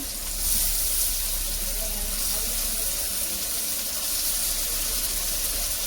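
Onion and garlic paste fries in a pan for a village-style desi chicken curry, giving a steady, close, even sizzling hiss.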